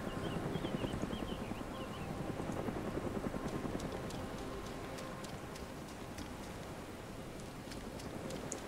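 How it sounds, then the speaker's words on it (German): A helicopter in the video game DayZ Origins drones steadily nearby, a continuous rumbling rotor wash that holds at moderate level throughout, with faint high ticks over it and no talking. "dieser Heli, der macht mir ein bisschen Angst"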